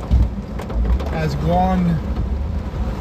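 Heavy rain from Tropical Storm Alberto near Rockport and Fulton, Texas, falling in a steady dense wash while someone speaks briefly over it.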